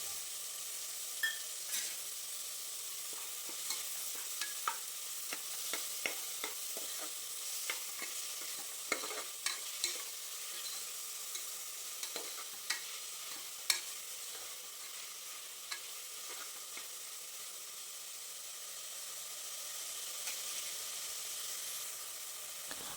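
Chopped onions and tomato frying with a little salt in a pan for vegetable pulao, with a soft, steady sizzle and irregular scrapes and clicks of a spoon stirring, fairly quiet and close.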